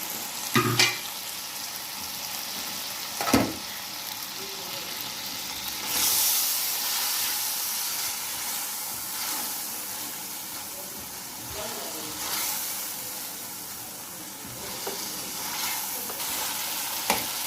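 Beef pieces fry in a karahi for Lahori beef karahi, giving a steady, close sizzle and hiss with occasional stirring clatters and brief louder bursts throughout.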